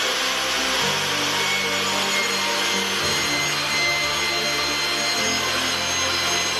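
A table saw rips wood strips to 3/4 inch wide for a toddler bed, a loud continuous whining roar with low motor hum that shifts pitch as each cut starts and ends, no voices.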